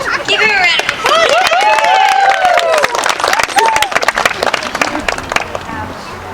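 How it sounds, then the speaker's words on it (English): Wedding guests clapping and cheering, scattered sharp claps under a lively crowd with excited voices and children's chatter, the applause thinning toward the end. "Give him a round of applause."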